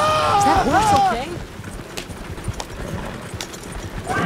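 Horse hooves clip-clop on a dirt road in Red Dead Redemption 2, a steady rhythm of close, moderately loud steps under a brief burst of whinnying at the start and ongoing game ambience.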